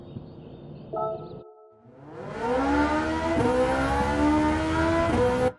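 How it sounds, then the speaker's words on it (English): A Ferrari engine in the racing game Gran Turismo 7 revs up after a short pause and climbs steadily in pitch through the gears. The engine note is loud and close, with shift dips along the way, and then cuts off abruptly. "let's get used to driving this Ferrari"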